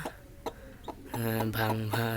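Desi hens clucking close by, first a few short scattered clucks, then a louder run of rapid, rhythmic clucking notes, with a few light knocks in between.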